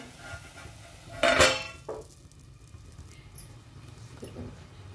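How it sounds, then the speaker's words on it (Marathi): A metal plate is set over thalipeeth cooking on a pan, landing with one bright clattering clank followed by a smaller knock, then faint quiet cooking noise. "आपण काय करणार आहे आता हे ताट असं झाकून ठेवायचं।"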